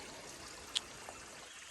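A small, clean stream flows near its spring head in the mountains, a faint, steady trickle with one brief bright splash.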